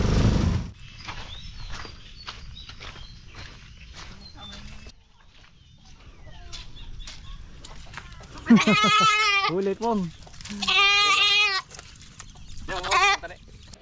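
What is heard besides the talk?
goat bleating, goat for a birthday feast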